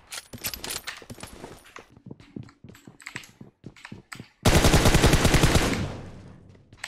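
Bursts of rapid gunfire in PUBG Mobile, scattered single shots followed by a loud sustained automatic volley that fades out.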